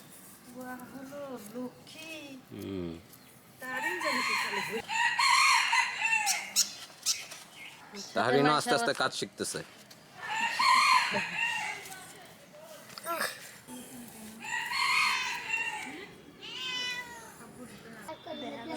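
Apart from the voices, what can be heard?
chickens clucking and rooster crowing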